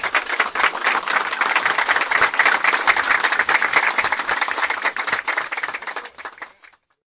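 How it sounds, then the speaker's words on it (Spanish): A long round of applause from mourners at a funeral. Dense, continuous clapping holds steady for about six seconds, then thins and fades out into silence. "yo también pido un aplauso y que sea eterno."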